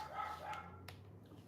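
A dog barking indoors as people come through the door: a couple of short, sharp barks over a low room hum.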